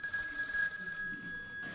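A telephone bell rings in a quick trilling burst for about a second, fairly close and clear, then stops and fades out with no voices.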